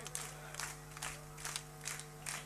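A crowd clapping in a steady, evenly spaced rhythm at a devotional gathering for the goddess Meldi, with bursts of applause recurring about every half second over a faint low hum.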